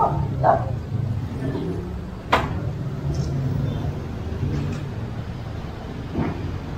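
Stray dogs with mange, in a neighborhood being cleared, give a few scattered barks and yips at a middle distance over steady background noise, with brief pauses between them.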